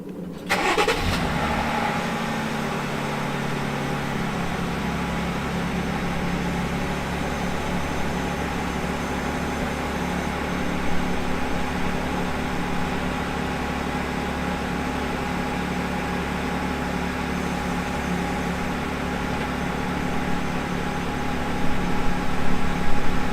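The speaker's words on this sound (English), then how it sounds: "Start the truck, use your blinkers." A 2020 or later Jeep Gladiator engine cranks and catches near the start, then settles into a steady, close idle rumble that continues to the end.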